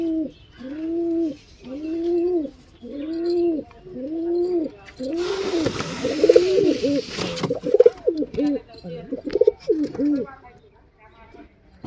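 Pigeons at a busy market stall coo in repeated rolling calls, near and clear, several birds overlapping, with a burst of louder crowd and handling noise in the middle and talk mixed in.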